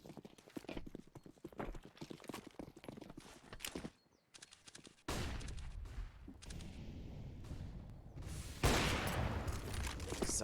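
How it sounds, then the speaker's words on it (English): Gunfire in a Counter-Strike match sounds as rapid clusters of sharp shots, with a Desert Eagle pistol among the weapons, mixed with other game noise and growing denser and louder toward the end. "CJ peeking out from Cubby, takes out 3 with the Desert Eagle, and Exotic saves the day"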